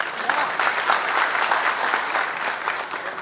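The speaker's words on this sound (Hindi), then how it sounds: "मराठीसाठी वाजवा तुम्ही ताली" An audience at a political speech claps loudly and steadily, a dense even wash of applause lasting a few seconds with no break.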